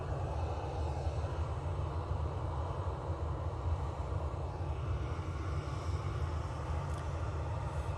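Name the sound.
Emirates Boeing 777-200LR landing approach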